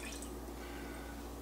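Water is poured into a full-cup measuring cup until it holds half a cup, a steady, close trickling and splashing that runs without a break.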